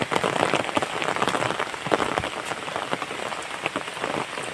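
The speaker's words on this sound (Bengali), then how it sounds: "এত বৃষ্টি পড়তেছে" Heavy rain pours down in a steady, dense hiss, with sharper drops spattering on nearby surfaces at an irregular rhythm, and no voices.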